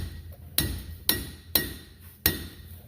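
A hammer strikes the wheel hub of a 2004 Chevrolet Silverado pickup four times during a rear wheel bearing replacement. Each sharp metallic knock rings briefly and decays, at a slow, uneven pace and close by, with no talk over it.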